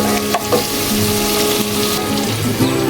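Chilli powder masala frying in oil for khichdi, a loud, steady close sizzle with occasional stirring scrapes throughout.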